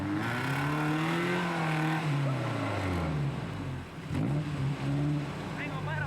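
A bogged vintage off-road vehicle revs hard as it tries to pull free, its engine droning loud and close with a pitch that rises and falls. A voice talks over it for much of the time.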